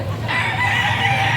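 Chickens and roosters at a poultry stall in a pet market, a rooster crowing loudly over steady clucking and background hum from the crowded stall.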